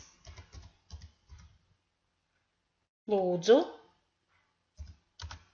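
Computer keyboard typing while entering delivery information, a few short bursts of clicking keys at the start and again at the end, with a spoken passage in the middle.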